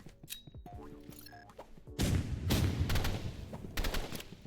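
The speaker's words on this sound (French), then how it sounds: "Oh, on a sorti le petit lance-roquette, on n'a pas envie de perdre." Video game gunfire erupts in a loud, dense burst of shots and blasts that runs to the end, with a rocket launcher in play and a few sharp clicks and tones before the barrage.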